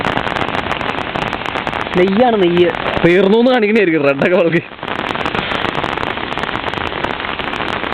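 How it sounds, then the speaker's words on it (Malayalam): Steady rain pours on a hilltop, a dense even hiss that runs the whole way, while a voice talks and hums over it for a few seconds near the middle. "അവിടെ പഴയായി, അവിടെ മഴയായി."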